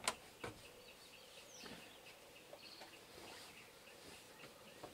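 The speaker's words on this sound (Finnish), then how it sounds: "Sirkkuja" Faint insect chirping, likely grasshoppers, in an outdoor birding setting, with soft scattered calls, a few sharp clicks and a quiet background hiss.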